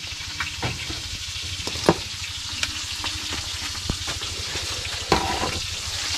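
Eggplant frying in a pan on a home stove gives a steady, close sizzle with scattered sharp clicks and scrapes from stirring, with no talking.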